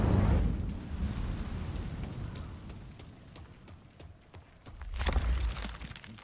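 A fiery burst from an Incendio spell cast in Hogwarts Legacy roars up loud at the start, settles into a rumbling crackle, then flares again in a second whooshing blast near the end.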